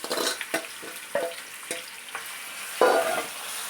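Mango chutney frying in hot oil with fresh curry leaves and dried red chillies in a pan, a soft steady sizzle broken by several sharp stirring scrapes and clinks, with a louder burst of sizzling near the end.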